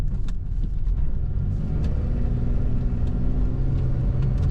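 A 1996 Pontiac Firebird rolls along and takes a corner, its engine a steady low rumble with road noise heard from inside the car, loud and continuous without any talking.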